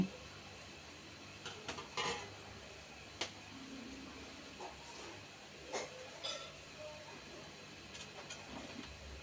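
Wheat-flour gulab jamun frying in hot oil, a steady soft sizzle and hiss at low volume, broken by a few sharp pops and light clinks.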